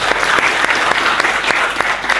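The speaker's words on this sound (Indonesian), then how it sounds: "Luar biasa, tepuk tangan." A group of people claps in a short, lively burst of applause at a school presentation in Indonesia, close and fairly loud, with distinct individual claps audible through the wash.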